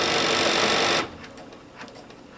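A sewing machine stitches a buttonhole on a blouse with a loud, rapid, steady whir up close, then stops abruptly, leaving quiet room sound with a few faint clicks.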